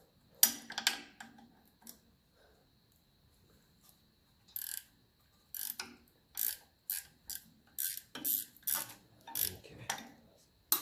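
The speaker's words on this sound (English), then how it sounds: "There's a ratchet 13mm." A 13mm ratchet wrench working a bolt on a 1954 Ferguson 20 TEF diesel tractor, giving quiet, close runs of rapid pawl clicks in short repeated strokes separated by pauses.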